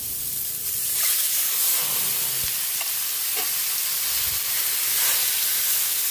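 Chicken sautéing in a pan for tinolang manok, a steady loud sizzle and hiss with occasional stirring scrapes from a ladle, continuous throughout.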